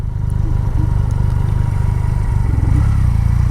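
Triumph Rocket 3 muscle bike with its big engine running close by, a steady deep low rumble holding throughout with a slight rise near the end, no voices over it.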